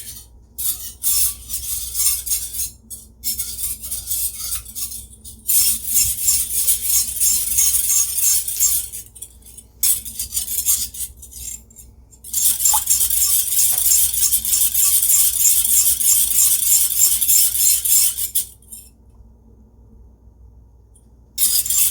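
Pancake batter with melted butter whisked briskly in a bowl, a steady scraping, clinking rasp running in long bursts with short pauses, close and fairly loud, with no talk.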